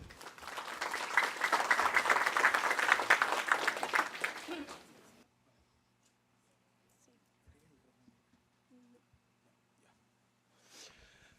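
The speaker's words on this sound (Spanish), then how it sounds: "Un aplauso para él, por favor." An audience at a conference on food and agriculture bursts into applause, loud and dense for about four seconds, then fading out and leaving near silence with only faint shuffles.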